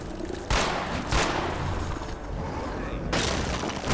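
Video game gunfire rattles in a steady dense stream, with several sharper, louder bursts standing out at intervals over the continuous shooting.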